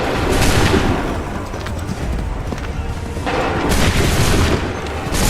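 Musket volleys crack out in Assassin's Creed III, booming shots mixed with dense battle noise and shuffling, with shouted commands over the fire.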